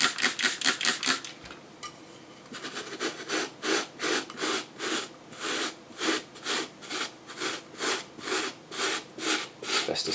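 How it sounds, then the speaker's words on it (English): Close, steady scrubbing strokes work dirt out of Alcantara suede during cleaning, a rhythmic rasping of about two strokes per second with no talk. "just going to take a little bit of care here, just to try and agitate the dirt so we can try and draw it out"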